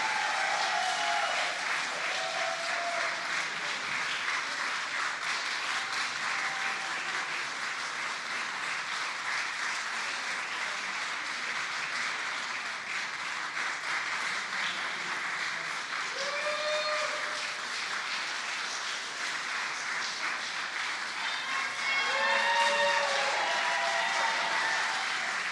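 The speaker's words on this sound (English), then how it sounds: "We clapped for you every night." A crowd applauds at a New York governor's press briefing held at One World Trade Center, sustained dense clapping that stays at a steady level throughout and swells slightly near the end.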